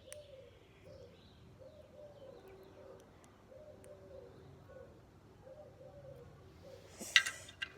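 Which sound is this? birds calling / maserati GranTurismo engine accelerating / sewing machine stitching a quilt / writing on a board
birds calling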